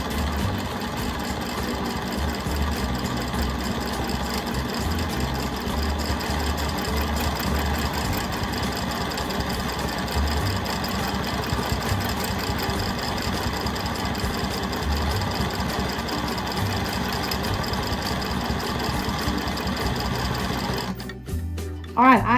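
A sewing machine quilts small stitches at speed on a mandala quilt, running in a fast, continuous whirr for about twenty seconds, then stopping with a few clunks.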